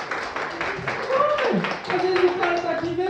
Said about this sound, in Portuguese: Passa salva de palmas para ele aqui